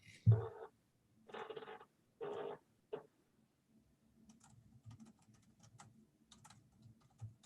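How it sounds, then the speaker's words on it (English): Soft, irregular keyboard tapping, quiet clicks scattered after a few bursts of nearby noise at the start. "Hold on, I'm typing to Mary"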